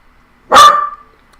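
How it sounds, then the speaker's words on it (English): A dog named Twix lets out one sharp, loud bark close by, followed by silence. "He's just really barky today."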